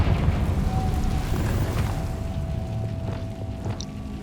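A Confringo fire spell from Hogwarts Legacy bursts into a low, rumbling explosion that fades gradually over a few seconds. It stays fairly soft, with no voices.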